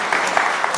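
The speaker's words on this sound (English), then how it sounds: "let's give them a round of applause" Brief burst of audience applause for two panel speakers at a conference, dense even clapping throughout the moment with no pause.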